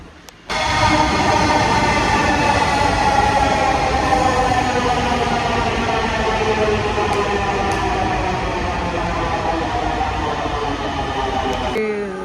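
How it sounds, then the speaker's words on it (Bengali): Dhaka metro train pulling into a station, a loud steady rumble with rising whine and tonal hum that starts abruptly after a brief lull and holds near and strong throughout. "চলে আসছে আমাদের মেট্রো"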